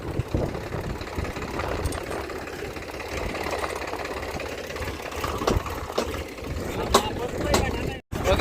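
A tractor engine chugs steadily throughout, close by, as it reverses uphill, with people talking over it and a brief dropout near the end.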